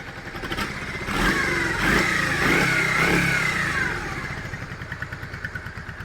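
A warmed-up Yamaha Virago 400 motorcycle engine runs close by, idling with a pulsing beat, revving up and holding for a few seconds, then settling back to a chugging idle.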